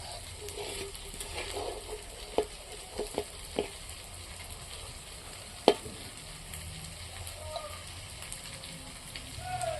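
Cooked rice with ground spices fries and is stirred in a pan for a rustic prawn biryani, a soft continuous sizzle broken by a few sharp utensil knocks and scrapes, faint and close.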